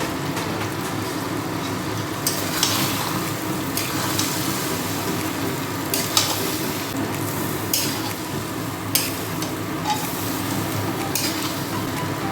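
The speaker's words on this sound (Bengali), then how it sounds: "এটা এখন ভালো করে ভাজতে হবে, চালটা একদম মানে মচমচে ভাজা হয়" Rice frying in a pan with whole garam masala spices for pulao. A loud continuous sizzle is broken by repeated scraping bursts from stirring, and no one speaks.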